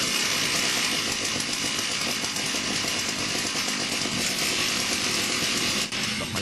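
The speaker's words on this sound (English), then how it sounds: "the growing buzzing to turn into a deafening roar" A motorcycle built from 24 chainsaw engines roars nonstop, a dense, loud, deafening buzz that holds steady throughout.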